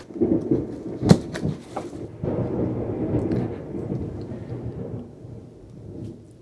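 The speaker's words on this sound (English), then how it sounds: "Okay, this storm is crazy." A thunderstorm with a sharp crack followed by long rolling thunder rumbling, steady rain hissing underneath throughout.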